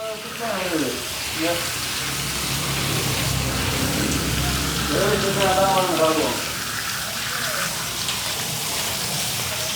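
Water runs and splashes steadily as it washes dust off a surface in a new home, a continuous hiss under intermittent talking.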